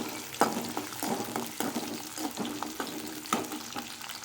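Chopped garlic sautéing in a pan of oil for a Tamil poondu kulambu, a steady close sizzle broken by repeated stirring scrapes and clinks, with no talking.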